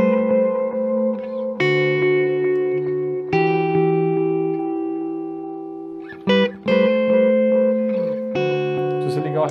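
Electric guitar notes run through a Caline Ragnarok reverb and delay pedal set for many repeats, sustained chords echoing and smearing into long trailing tails, with new strums layered over the lingering repeats.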